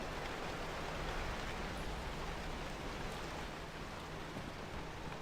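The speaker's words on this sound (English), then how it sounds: "Now I can hear that there's rain." Steady rain hiss in the video game Pacific Drive fills the scene, a dense even wash of falling drops with no voices.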